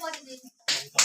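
Short bursts of hand clapping at a family Kul Puja, two quick loud rounds of applause following a voice, close and brief.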